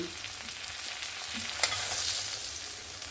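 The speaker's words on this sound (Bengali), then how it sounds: "বাদ বাকি মাছগুলোকেও সেম ভাবে ভেজে নেব।" Giant freshwater prawns, straightened with toothpicks, frying in hot oil in a pan, a steady broadband sizzle with a brief stir or scrape near the middle, close and continuous with no talking.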